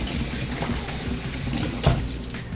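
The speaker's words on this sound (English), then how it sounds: "give it another rinse with cold water just to wash off extra vinegar" Cold running water splashes steadily over pork as it is rinsed off after a vinegar wash, a constant close rushing with a brief louder splash near the end.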